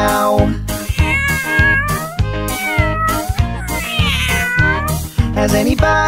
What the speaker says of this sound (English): The kitty's going meow.